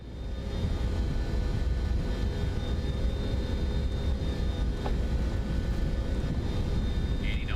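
Three jet engines of a FlightSim Studio 727-200F cargo jet in MSFS 2024 roar steadily at just under takeoff power, a loud continuous broadband rumble with faint tonal whine running throughout.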